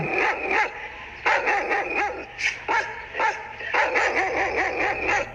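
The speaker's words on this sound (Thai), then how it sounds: "เมื่อไอ้ดำหมาที่พวกเขาเลี้ยงไว้ ส่งเสียงเห่ากันโชคดังลั่น" A black dog barks repeatedly in quick, loud bursts, some sharp and yipping, close by with short pauses between volleys.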